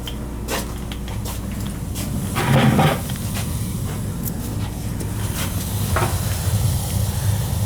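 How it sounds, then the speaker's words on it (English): Steam hissing from a leaking steam boiler, a loud, steady, close broadband hiss running throughout, with scattered clicks and knocks on top and no talking. "Making steam there, see it? Oh, she's flipping leaking."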